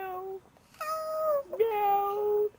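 A voice imitates a cat, giving two drawn-out, rising-and-falling meows close up, with a short gap between them.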